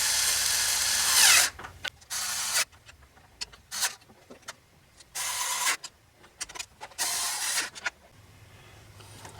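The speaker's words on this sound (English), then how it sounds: "I'm going to snug this up with an alternating sequence pattern." Gasket cover bolts on a Ford F150 with a 300 cubic inch inline-six being run down with a power driver, short whirring bursts separated by pauses and faint clicks.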